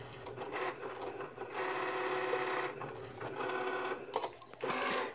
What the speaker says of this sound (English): So it's pretty much cutting this design